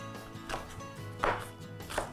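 A knife chops the ends off fresh green onions on a cutting board, three quiet separate cuts spaced apart against a soft background hum.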